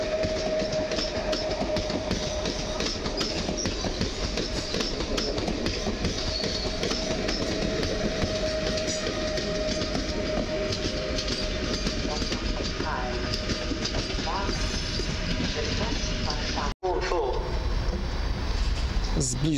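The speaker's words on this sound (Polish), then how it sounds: "Jedzie pociąg lotniskowy Kolei Mazowieckich do Modlina." A Koleje Mazowieckie airport electric multiple unit train to Modlin rolls by nearby at Warszawa Zachodnia station, with a sustained rumble, electric whine and rhythmic wheel clatter, loud and steady before a sudden cut near the end.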